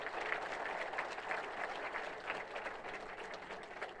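An audience claps at a ceremony for the World Hindi Secretariat building in Mauritius, a steady, moderately distant wash of applause holding at an even level throughout.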